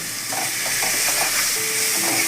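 Moong dal fries and gets stirred in a hot pan, a loud steady sizzle with scraping stir strokes running throughout, close up and with no talking.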